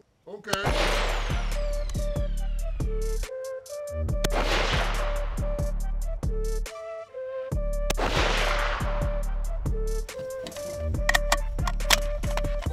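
An ADM UIC-10A AR-10 rifle fires three loud, sharp shots spaced a few seconds apart, each crack followed by a long ringing echo across an outdoor range.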